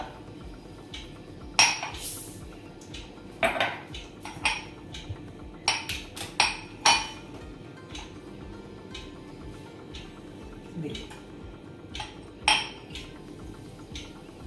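A spoon clinks sharply against a glass while stirring mango leaf juice, with irregular bursts of tapping and scraping, close up and with no talking.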